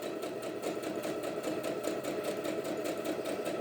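A sewing machine stitches a fabric book sleeve, its needle running in a fast, steady mechanical chatter with regular rapid pulses, close and continuous throughout with no voices.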